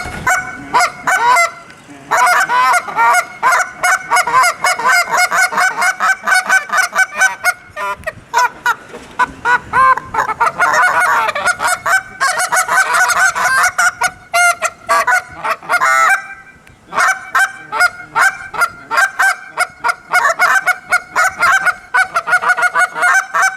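Hand-blown goose calls imitate geese clucking in a steady, fast rhythm: two callers answer each other with overlapping honks and clucks, loud and close, with only brief pauses between runs.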